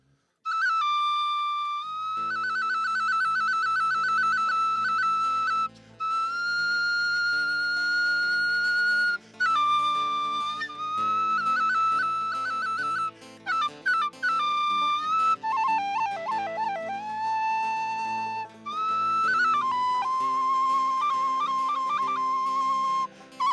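A flute plays a lively, steady folk melody at a live session, with clear sustained notes and quick ornamented runs, continuous and fairly loud with soft accompaniment beneath.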